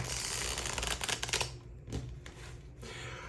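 Rapid riffling and flicking of tarot cards, a dense burst of shuffling followed by a few softer taps and slides.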